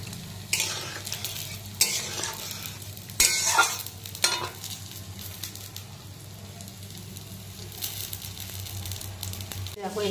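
Fried fish, a stinging catfish variety, going into a thin simmering curry with papaya, potato and beans, with soft sizzling under a low hum and a few sharp scraping stirs and clatters of a spoon against the pan.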